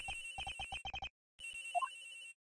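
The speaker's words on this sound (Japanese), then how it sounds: "どこかで電話が鳴っているっ" A telephone ringtone from the video game Ace Attorney Investigations: a rapid burst of bright electronic rings, a short gap, then another ringing phrase with a rising tone, clean and alone without voices.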